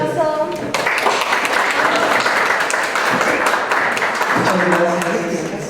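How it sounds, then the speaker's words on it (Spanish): An audience at a course session on the history of the LGBTI movement bursts into applause, dense and sustained clapping for several seconds, with a voice speaking at the start and end. "Un aplauso."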